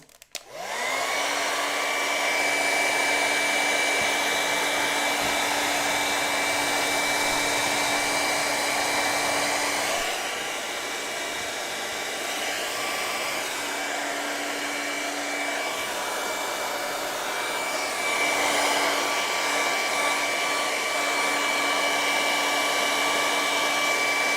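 A hair dryer drying paint blows loudly and steadily with a high motor whine, running almost continuously with only a brief dip in pitch partway through.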